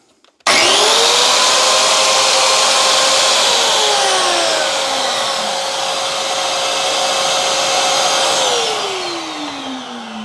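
A shop vac switches on abruptly and roars steadily while pulling dust through a hose attached to a track saw, a loud close whine that drifts slightly in pitch.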